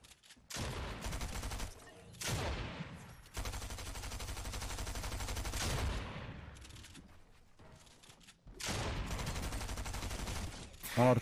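Bursts of automatic gunfire in the video game Fortnite, several loud sustained volleys separated by short gaps, with a final sharp shot at the end.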